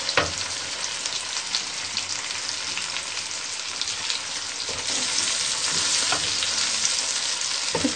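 Garlic ginger paste frying in a pan for karela sabzi gives a steady, close sizzle, with occasional stirring scrapes and a louder burst of frying partway through.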